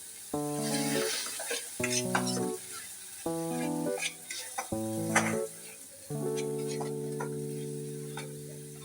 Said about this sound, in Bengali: পেঁয়াজ রসুনের কাঁচা গন্ধটা সামান্য চলে গেলে টমেটো বাটাটা দিয়ে দিলাম।